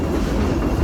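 Steady low rumble of a train ride behind Baldwin steam locomotive number 70, a 2-8-2 weighing over 230,000 pounds, heard briefly as continuous rolling noise with no talk.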